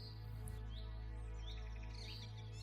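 A small bird chirps in an animated story, giving a few quick, high tweets over a loud, steady low hum.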